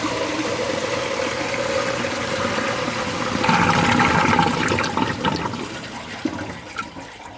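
A restored 1935 H. J. Gill and Co "Cardigan" toilet cistern with a siphon flushes fully, a loud close rush of water swelling then tapering into gurgles and trickling refill sounds.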